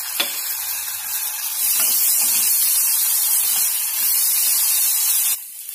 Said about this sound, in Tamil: வெங்காயம் வதங்கினதுக்கு அப்புறம் நம்ம எடுத்து வச்சுக்கிட்டு இஞ்சி பூண்டு விழுது சேர்த்துக்கலாம்